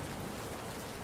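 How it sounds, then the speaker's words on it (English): A dense, even patter of rain against a window pane, constant and soft, with no distinct drops standing out and no voices. "rain taps at the window pane"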